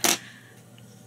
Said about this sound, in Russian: Я отрезаю ножницами.